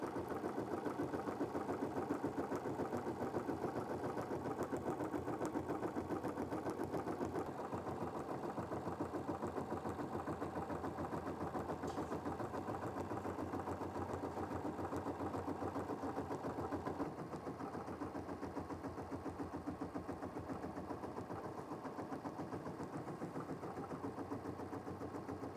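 A computerised embroidery machine stitches a design onto a quilt block with a steady, rapid mechanical chatter that runs continuously at even volume, close up and with no talk.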